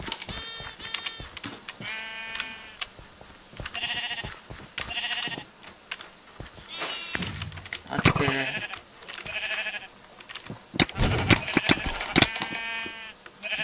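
Sheep in Minecraft bleat repeatedly in short wavering calls scattered among rapid clicky tapping, with players talking briefly in between.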